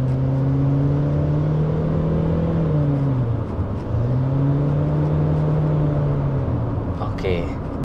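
A Chery Tiggo 5X accelerates hard under kickdown from inside the cabin, its engine tone droning and rising steadily, dipping briefly at a gear change, then climbing again under continuous road rumble.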